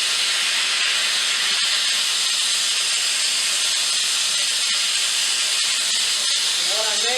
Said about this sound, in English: Trying to weld in these ends.